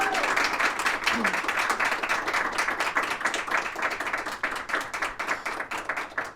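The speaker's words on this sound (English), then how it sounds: "give our panelists a round of applause" A room full of people claps for a panel at a podcast-style event, a dense steady patter of applause that fades slowly over several seconds with a voice briefly heard at the start.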